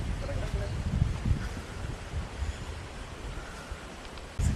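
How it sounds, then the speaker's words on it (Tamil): Strong wind gusts buffet the microphone outdoors near the Agathiyar Kalyana Temple at Mekkarai in Tenkasi district, a steady roaring rumble with low thumps throughout and a louder burst at the end, while a person talks over it. "காற்று ஐயோ ஐயோ ஐயோ ஐயோ அப்படி இருக்குங்க"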